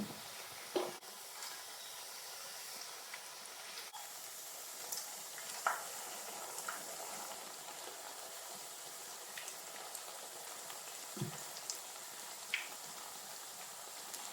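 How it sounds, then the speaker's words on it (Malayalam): An evening tea-time snack fries in hot oil in a pan, with a soft continuous sizzle and bubbling at close range and a few faint stirring clinks, no voices. "നമുക്ക് 2 ട്രിപ്പായിട്ട് ഇതൊന്ന് മുരിച്ചെടുക്കാം"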